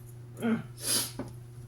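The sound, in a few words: sneeze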